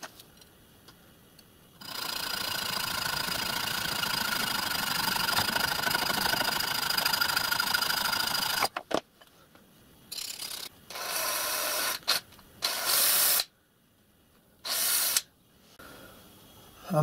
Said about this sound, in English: so I'm going to get my copper pipe cut.